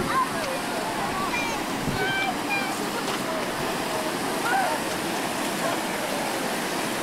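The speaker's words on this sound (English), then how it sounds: "And then just a smaller waterfall, not as cool as the one we were just at, but there nonetheless" A smaller waterfall gives off a steady broadband rush of falling water at moderate distance, with faint birdsong chirps over it and no clear talk.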